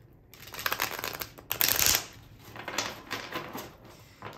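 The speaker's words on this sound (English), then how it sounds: "I'll give it one more shuffle so that the skin on my fingers don't completely fall off" A deck of tarot cards gets shuffled by hand in a steady run of riffling and flicking, with one louder burst in the middle. It is close and clear, with no talk.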